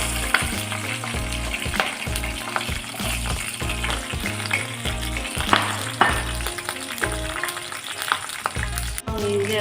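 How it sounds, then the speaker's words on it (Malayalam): Sliced onions sauté with salt in hot oil alongside cloves, cinnamon and cardamom for a chicken stew, producing a dense, continuous sizzle with regular stirring knocks against the pan, close and fairly loud. "സവാളയിലൂടെ ചേർത്ത് 1 സ്പൂൺ ഉപ്പിട്ട് വഴറ്റുക."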